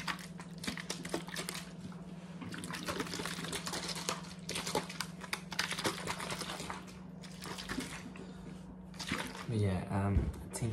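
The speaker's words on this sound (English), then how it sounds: "I can do some liquid triggers." ASMR liquid triggers give close, continuous wet squishing, dripping and crinkly crackling in dense bursts with short pauses, over a steady low hum, ending in a louder sloshing swirl.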